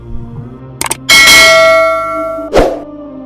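A bell notification sound effect with a couple of quick clicks and then a bright, loud bell strike that rings out and fades, followed by a second softer hit near the end.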